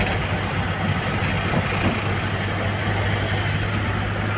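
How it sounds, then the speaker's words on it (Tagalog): A practice-lap engine keeps running at idle, a steady low rumble with a constant hum, fairly loud and close, with no talking over it. "hindi namatay yung makina"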